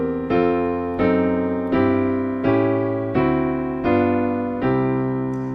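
Calypso jazz piano chords change every two beats, struck in a steady, even rhythm with each chord ringing and decaying before the next. Playing is close and clear, with no voices.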